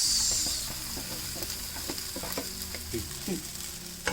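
Rice noodles (sevai) are tossed in a pan with a lemon mixture, a continuous sizzle broken by soft scraping and knocking as they are stirred and turned, close up with no talking.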